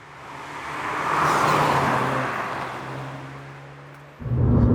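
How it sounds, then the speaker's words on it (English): Steady, loud road roar inside a MINI John Cooper Works F56 automatic with its seats removed, a broad rumbling drone that swells and eases, then jumps up louder near the end; no talking. "This road noise is pretty bad"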